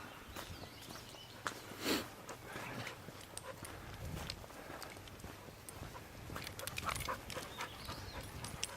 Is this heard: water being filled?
no